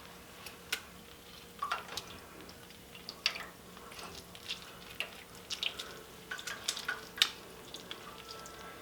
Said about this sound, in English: Cut the orange in half, and then I'm going to squeeze the juice into the pot.